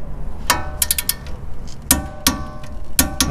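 Torque wrench tightening disc brake caliper bolts up to 90 foot-pounds, giving a few sharp metallic clicks and ratchet snaps spaced irregularly over low workshop background noise.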